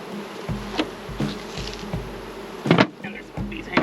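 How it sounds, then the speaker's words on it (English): Honey bees buzz around the entrance of a ten-frame hive box, individual insects droning past close by in short passes over a low background hum. "I've got bees hanging out the front of this next one that I'm going to get into."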